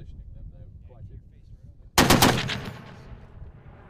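An M2 .50-caliber heavy machine gun fired by Afghan National Army soldiers on a hillside range, a sharp loud burst of several rapid rounds with a ringing echo trailing off after quiet wind.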